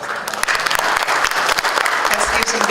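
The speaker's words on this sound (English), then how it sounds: "Let's give some big applause to all the speakers for this and moderators for this eye-opening presentation." Audience applause at a UNESCO event in Tangerang Selatan, honoring the speakers and moderators after a presentation; dense, steady clapping fills the room throughout, with a few voices mixed in.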